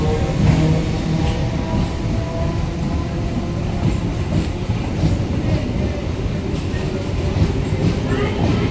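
Continuous rumble and rattling clatter of a moving train recorded from on board, steady and loud throughout with faint rhythmic wheel clicks.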